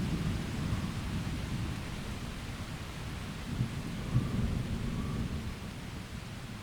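Steady rain pours during a mountain thunderstorm, with low rolling thunder rumbling underneath, continuous and enveloping, with no voices.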